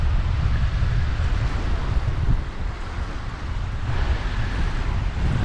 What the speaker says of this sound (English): the weather, it's cold and it's very windy